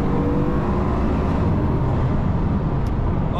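A Bugatti sports car accelerating, a loud, dense and sustained engine roar that stays constant and close for the whole stretch, with no talking.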